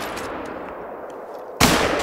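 A single sharp hunting rifle gunshot in The Hunter: Call of the Wild, a loud broadband crack that bursts suddenly at the end after a stretch of quiet outdoor ambience.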